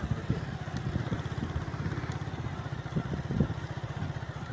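A motorcycle engine idles steadily on open farmland plots, its low, even chugging pulses continuing close by for the whole stretch with faint background noise.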